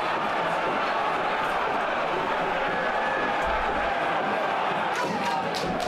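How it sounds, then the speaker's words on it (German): Away fans roar in the stands after an early goal in a Hessenpokal semifinal derby involving FSV Frankfurt, a dense, constant crowd din heard from a distance, with commentary talk over it. "Jubelt der Gästeblock zum ersten Mal"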